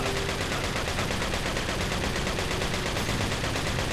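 Rapid, continuous automatic gunfire from Resident Evil 4, dense and unbroken for the full few seconds with no talking over it.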